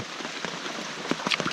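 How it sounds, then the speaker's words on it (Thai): Rain falls in a forest, a brief soft patter of scattered drops tapping nearby surfaces over a gentle steady hiss, fairly quiet with no voices. "เลยต้องหนีฝนก่อนแต่ว่าฝนมันเริ่มซาซาแล้วครับตอนนี้"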